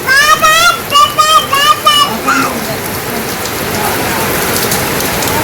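Rain falls steadily in a village during the rainy season, a broad hiss of drops on surfaces. A person talks in short phrases over the downpour early on, then the rain carries on alone.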